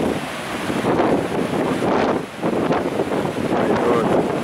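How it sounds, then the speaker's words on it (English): Large ocean waves break on an Algarve beach at Vale do Lobo in strong wind, a heavy roaring surf that surges and recedes in slow swells, partly buried under gusty wind buffeting the microphone. "Look at the size of these waves!"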